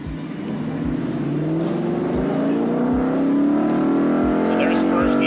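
A Ford Mustang GT converted to Shelby GT500 form accelerates hard, its engine revving up steadily in a loud, continuous rising drone with rhythmic pulses, heard from inside the car.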